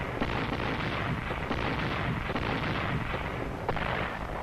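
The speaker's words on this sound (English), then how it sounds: "Batteries from Corps Artillery laid down heavy interdiction and harassing fire on the enemy supply" Corps artillery batteries laying down heavy interdiction and harassing fire on Guam in World War II, a dense, loud, continuous roar of overlapping booms and rumbling blasts with no pause throughout.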